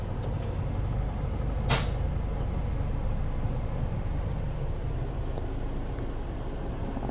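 Heavy road traffic in a jam with buses and cars: a constant loud rumble of idling engines, with a sharp air-brake hiss partway through and a faint distant beep later.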